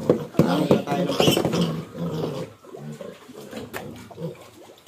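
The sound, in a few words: pig squealing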